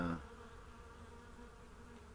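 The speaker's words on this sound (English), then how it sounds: "I don't know where all these bees are coming from. They're all wild bees." A swarm of wild bees buzzing around a shed, a steady, dense drone that holds evenly throughout, with a brief louder thump at the start.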